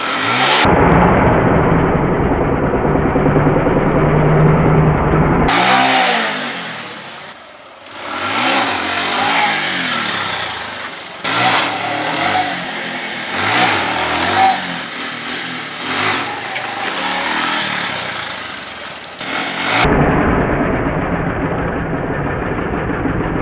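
Motorcycle engine revving hard during a wheelie, loud and close, with sustained throttle roars that rise and fall, brief dips between blips and a steadier running drone at start and end.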